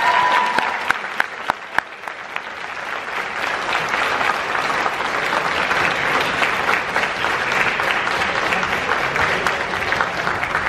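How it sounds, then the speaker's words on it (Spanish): A large audience applauds at the opening of a celebration at a book fair in Tijuana, sustained even clapping from many people that holds steady for about ten seconds, with a few sharper claps near the start. "demos un gran aplauso para empezar esta celebración"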